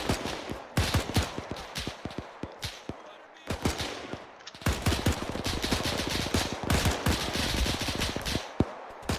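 MG42 machine gun fire in a WWII-era military shooter game, with long rapid bursts of dense automatic gunfire broken by short pauses, loud and close throughout.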